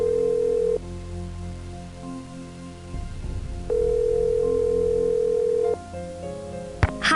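Steady electronic telephone tones from a phone call in the Nancy Drew: Stay Tuned for Danger video game: two long held tones with quieter gaps, then a sharp click and a few short tone bursts at the end.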